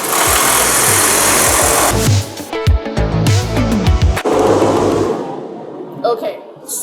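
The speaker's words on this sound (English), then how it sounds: "now Dave is breaking out the saw, and he's all ready to scuff it up and" A saw roughing up sanded wood for a rustic bed, loud and harsh grinding in long stretches with choppy gaps, close up.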